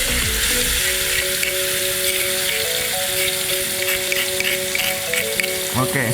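Spice paste for kampung-style nasi goreng sizzles steadily in a hot pan over a low flame, a continuous close frying hiss with faint stirring and no talk.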